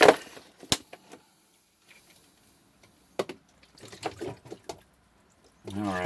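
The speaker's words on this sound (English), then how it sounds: "See if we can't rinse off my bowl here." A small bowl being rinsed under a running tap in a kitchen, heard as short splashes and trickles broken by gaps, with a louder burst of running water at the end.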